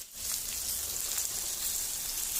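Okra masala frying in a pan with oil sprinkled over the top, a steady close sizzle with bright hiss and faint crackles running continuously on a low flame.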